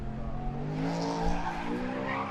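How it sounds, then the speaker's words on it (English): A BMW M4 race car at Knockhill during a Superlap Scotland Championship round, its engine note climbing steadily as it powers away, loud and close throughout the short burst. "Ian Bonthorne, his BMW M4 sounds great in the downshifts here"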